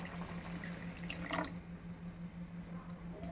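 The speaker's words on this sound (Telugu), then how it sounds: "కొంచెం వాటర్ యాడ్ చేద్దామండి" Water poured into a simmering Telugu tamarind fish curry (chepala pulusu), a brief splashing pour near the middle over a steady low hum and cooking background.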